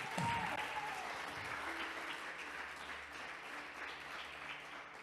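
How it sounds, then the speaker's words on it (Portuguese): A church congregation applauds during a sermon, faint clapping from a crowd that starts with a brief louder burst and then continues evenly. "Alguém pode aplaudir Jesus Cristo?"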